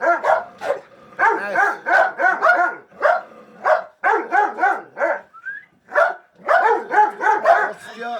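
Several dogs bark in rapid overlapping bursts, loud and close, with short pauses and a brief whine between volleys.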